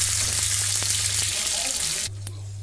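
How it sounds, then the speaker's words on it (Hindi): Chopped onions frying in oil in a pan for a velvet bean and potato curry, a steady close sizzle with light stirring scrapes that drops quieter near the end. "अब हम इस प्याज को कलर चेंज होने तक भून लेते हैं।"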